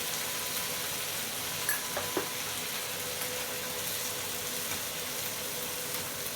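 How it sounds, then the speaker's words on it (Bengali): Potatoes and carrots frying in a pan, a constant low hiss of sizzling oil with a couple of faint clinks of stirring, steady and moderately quiet throughout. "এখানে একটু আলুটা সিদ্ধ হইলো ভাজা হইলো"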